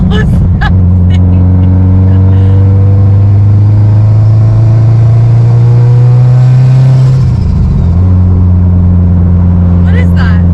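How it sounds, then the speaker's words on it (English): A turbocharged Mitsubishi Lancer Evolution IV with a blown engine drones loudly and steadily up close, its pitch dipping briefly near the end before resuming, while people talk nearby. "Why does the turbo sound like that?"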